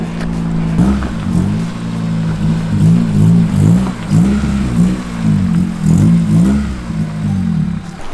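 A Honda Del Sol car engine revs repeatedly, rising and falling in pitch over a clattering idle, loud and close, alone without talk.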